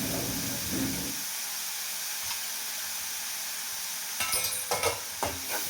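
Moong dal sautéing in hot oil with green chilli and turmeric, a steady close sizzle and frying hiss with a few clinks and scraping stirs toward the end, no talk.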